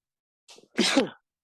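A single close sneeze: a short sharp intake of breath followed by an explosive burst, then silence.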